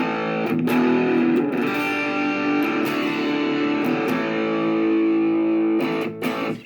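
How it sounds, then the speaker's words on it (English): Electric guitar played through a Boss DS-1W distortion pedal at half gain, moderate distortion, thick sustained chords and notes ringing out with gritty overtones, close and steady, with string noise between strums. "Now let's just try that with sort of half distortion."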